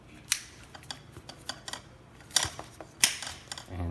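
Plastic parts of a Quest 2 headset snap and click into a deluxe audio strap, with several sharp, close clicks and a few fainter handling taps in a quiet room.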